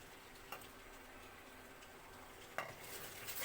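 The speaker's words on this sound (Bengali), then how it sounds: "রান্না চুলায় এই যে মাংস কষাচ্ছি" Meat sautés with ash gourd (chal kumra) in a pan on a stove, a soft, quiet sizzle with a couple of sharp utensil clicks and no talking.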